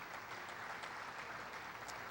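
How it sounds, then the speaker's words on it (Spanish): Faint, distant applause fills a church, a soft continuous wash of many hands clapping with no voices standing out. "aplaudimos al Señor."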